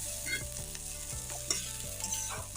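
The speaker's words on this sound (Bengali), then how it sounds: "দিয়ে এখন বেশ ভালো করে ভেজে নিচ্ছি" Drumstick flowers and bean seeds fry in a pan in a vegetarian dish, with a steady close sizzle broken by repeated scraping stirs of a spatula at a brisk, uneven rhythm, and no voices.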